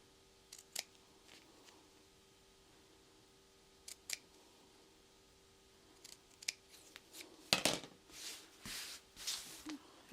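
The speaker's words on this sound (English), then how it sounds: "the cutout there, and I'm going to cut that by hand" Scissors or shears snip by hand through leather for a backpack cutout, giving quiet scattered single cuts early and a denser flurry of close, crisp snips toward the end.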